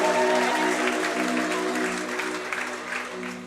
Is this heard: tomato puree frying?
no